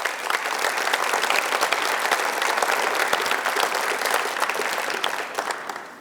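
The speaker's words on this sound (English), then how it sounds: "So please give these people a round of applause." A crowd at a high school athletic hall of fame induction ceremony applauds honorees, dense sustained clapping at even volume for several seconds before trailing off.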